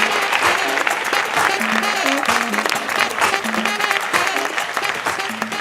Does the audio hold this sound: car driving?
no